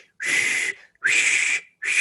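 A voice whistles in imitation of an ice cream van's call on a warm night, three loud sustained high whistled tones, each about half a second with brief pauses between, close and alone.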